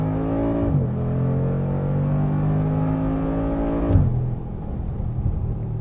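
A 2022 Mercedes-AMG G63 with a 577-hp engine accelerates hard in manual mode. Steady engine drone climbs in pitch, drops sharply at a quick upshift, climbs again, then drops at a second shift, all close and loud inside the cabin.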